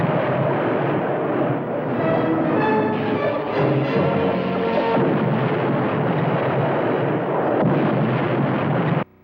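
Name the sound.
laser firing at a reef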